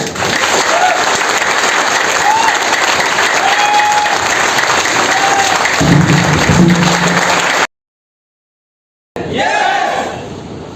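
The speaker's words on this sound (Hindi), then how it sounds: "एक बार जोरदार तालियां।" Loud audience applause and cheering at a leadership talk, dense and continuous with some shouts, briefly cutting out before resuming and fading.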